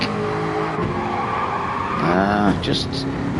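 Race car in a racing game, the Ultimate Racing League F-Type Series, sliding out with a squealing tire skid over a droning engine, while commentators talk over it.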